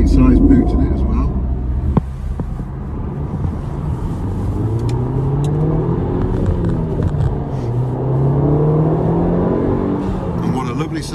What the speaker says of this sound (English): And what a lovely sound to the engine.